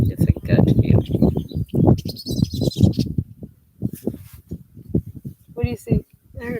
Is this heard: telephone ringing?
no